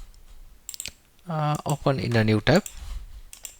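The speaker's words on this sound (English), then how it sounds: "I'm typing Cognito" Typing on a computer keyboard, scattered sharp key clicks before and after someone speaking over the middle of the clip.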